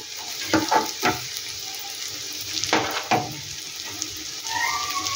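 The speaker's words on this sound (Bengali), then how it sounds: "এবারে যে সসটা আমি তৈরি করেছি সেই সসটা আমি দিয়ে দিচ্ছি" Homemade sauce poured into a hot pan of fried potato balls sets off a loud burst of sizzling and bubbling, then a few quick stirring scrapes as the hiss carries on close by, with no talking.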